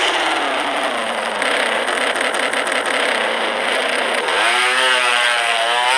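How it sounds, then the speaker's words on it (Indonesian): A racing motorcycle's engine roars steadily and close throughout, with a rising, revving pitch sweep near the end as it accelerates. "Ini motor sih kencang banget"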